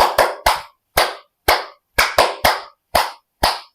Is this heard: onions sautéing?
no